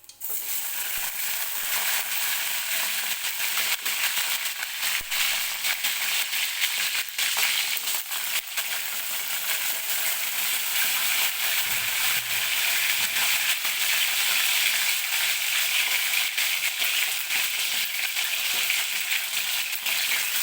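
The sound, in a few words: brinjal pieces frying in hot oil in a kadhai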